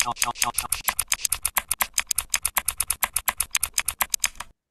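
Fast, even clicking of keys on a computer keyboard, close and crisp, dozens of sharp taps in a steady rhythm that stops abruptly.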